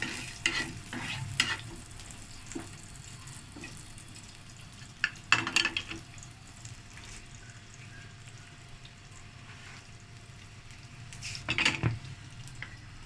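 Finely chopped garlic sautés in a pan for a ring samosa filling, a soft steady sizzle with intermittent spoon scrapes and stirring clatters that rise to louder knocks near the middle and end, with no voices.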